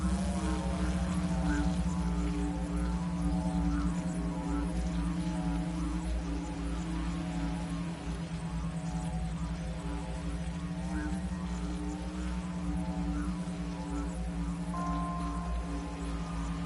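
A flying drone in Horizon Forbidden West gives off a steady, close buzzing hum with strong tonal drone and layered harmonics, holding at an even level for over fifteen seconds.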